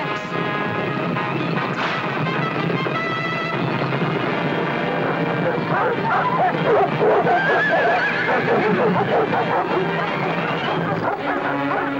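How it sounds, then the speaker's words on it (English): Horses neigh and whinny in a loud, busy action scene, their cries rising over a dense, continuous rumble of commotion. "Go get the horses."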